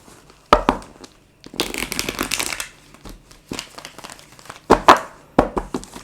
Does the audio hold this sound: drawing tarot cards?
yes